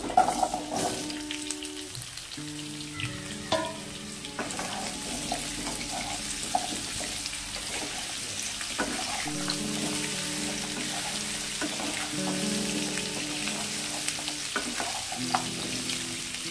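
Pieces of taro dropping into a hot frying pan for a village-style Bengali snakehead fish and taro curry, with a steady close sizzle and stirring scrapes while low tonal sounds hum in the background.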